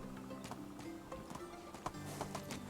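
Donkey hooves clip-clopping in the medieval life-sim game Medieval Dynasty, a steady run of soft rhythmic hoof steps under ambient game sound, fairly faint and without talk.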